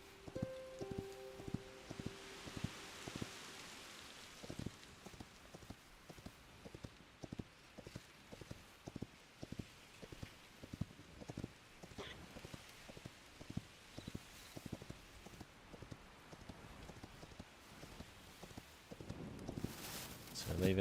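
Horse hooves in the video game Hytale clop in a steady, even trot throughout, quiet and close, with a faint rain-like hiss underneath and brief noise bursts near the end.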